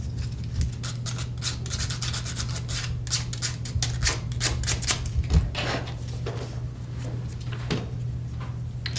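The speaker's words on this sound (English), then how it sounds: "And then that's what I sand down." Sandpaper scrubs over a painted craft project in quick, uneven back-and-forth strokes, close and dry, with a low steady hum running underneath.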